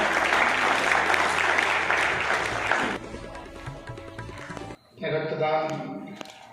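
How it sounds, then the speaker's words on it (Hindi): An audience at a blood donor award ceremony applauds in a dense, steady patter. The clapping fades into a quieter room, then a voice speaks over a public address system. "जोरदार तालियों से स्वागत करें।"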